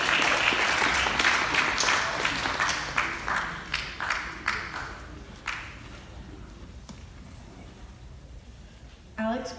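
Audience applause fills a school chapel at a Christian school, a dense wash of clapping that thins into scattered individual claps and fades, with a brief voice at the end.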